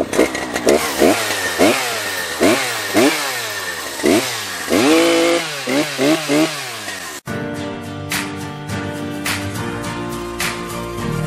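A large Husqvarna chainsaw revs loudly in repeated bursts, its engine pitch rising and falling with each pull of the throttle, then settles into a steady roar.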